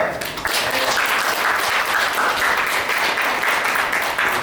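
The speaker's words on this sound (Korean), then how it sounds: "잠깐 일어나면 고생했다고 박수 한번" A congregation applauds during a Sunday morning church service, welcoming a young woman back from a short-term mission trip to Guatemala; steady group clapping rises after a brief lead-in and continues evenly.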